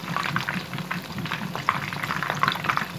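Fish, the jackfruit-leaf fish, frying in hot oil, a dense continuous crackling sizzle with scattered sharp pops, close and fairly loud, no talking.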